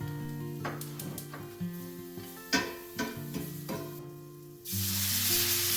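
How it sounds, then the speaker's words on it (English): Meat sears in a hot pan under steady background music with a few clinks, and a loud broadband sizzle surges up near the end. "searing on high heat to create a nice crust"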